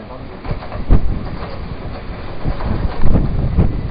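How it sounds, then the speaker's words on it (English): Cold wind from a bow echo storm roars and buffets the microphone outside a hotel in Arkansas, a dense low rumble that swells and gusts throughout, with a voice faintly mixed in. "Cold wind, that's a good sign"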